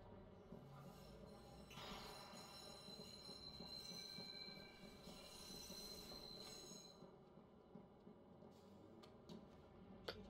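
Train wheels squeal in the video game Watch Dogs, a thin, high, sustained screech over a low rumble of rolling rail cars that fades out near the end; the level is quiet and no one talks.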